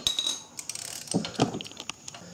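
A ratchet wrench loosening the bolts of a Volkswagen Jetta power steering pump, with quick close clicking bursts and metallic ticks from the pulley area in brief spurts.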